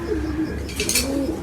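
Pigeons of a fine, large show breed coo softly and steadily at close range, a low repeated warble with some faint higher chirps mixed in, no voices.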